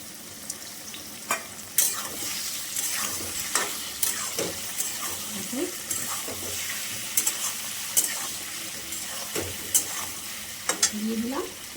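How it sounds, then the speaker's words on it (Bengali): Shrimp fry in a pan with ash gourd, giving a steady oily sizzle broken by repeated scrapes and clinks of a spatula stirring the pieces. "চিংড়ি মাছটাকে এর সঙ্গেই আমি একটু"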